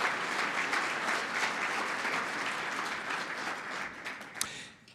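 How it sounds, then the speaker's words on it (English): An awards banquet audience claps after a performance, a full, even burst of applause that holds for several seconds and then thins and fades toward the end. "One more round of applause for that incredible performance."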